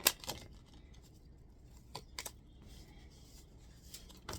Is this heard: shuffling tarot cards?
yes